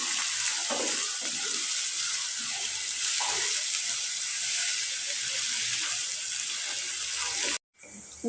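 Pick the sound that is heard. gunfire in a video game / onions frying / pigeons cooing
onions frying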